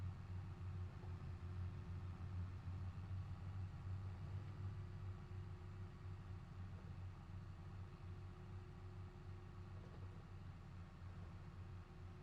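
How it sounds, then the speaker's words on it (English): Steady low diesel drone of a farm tractor engine heard from inside the enclosed cab at night, a continuous muffled rumble with a constant hum, no talking. "I like how it's kind of quiet inside the tractor."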